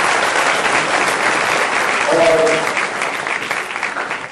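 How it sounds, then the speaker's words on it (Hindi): Applause from a large audience welcoming honourees at an awards felicitation ceremony, a dense steady clapping that fills the whole clip, with a brief spoken word over it. "तो आप एक बार फिर से ताली बजाकर सबका स्वागत करेंगे।"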